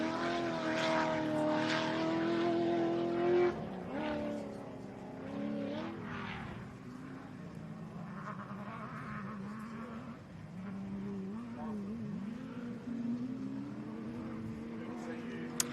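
An enduro race car roars over the centre jump at a pine forest circuit, its loud engine note rising and falling across the stretch with a commentator talking over it.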